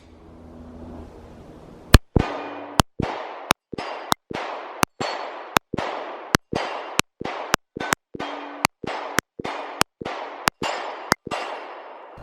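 A SIG Sauer P365 pistol fires about sixteen sharp, loud shots from a 15-round magazine in a steady rapid rhythm, each crack followed by a short ringing decay, after a quiet start.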